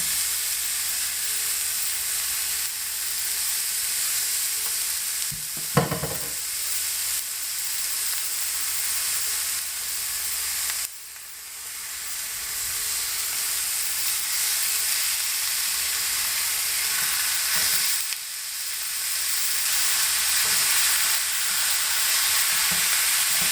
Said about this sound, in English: So let's cook the meat,